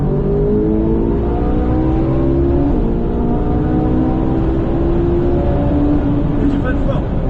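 A Ferrari 458 Italia accelerates on a race circuit with a loud, sustained engine note whose pitch climbs steadily through the gears, heard from inside the car under constant road and wind noise.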